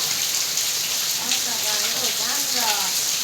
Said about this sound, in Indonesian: Bang, hujan bang.